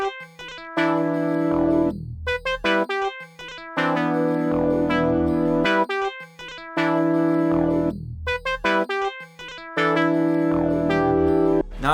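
Jazz-influenced hip-hop beat built in FL Studio around a bouncy, super-repetitive synth lead from the Albino Too Funky preset, with sliding bass notes, the pattern looping about every four seconds, loud with no voices.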